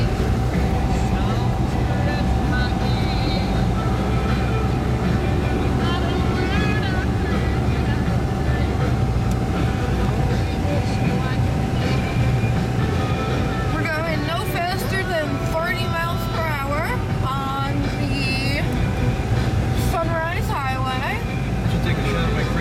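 A car drives on icy roads during a blizzard, producing a constant low road rumble and engine drone. People talk throughout, over the noise.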